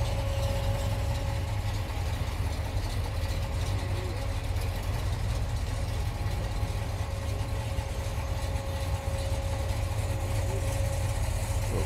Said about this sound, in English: Ford drag truck.